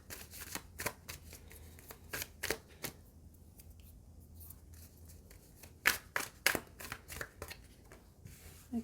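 Tarot cards are shuffled by hand close up, producing quiet crisp riffles and flicks in irregular bursts with short pauses between them, and no voices.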